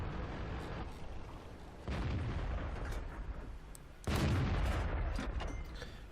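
Heavy tank cannon blasts in the World of Tanks video game with a Tog II, three loud booming shots with long rumbling tails, the last one strongest, no talking.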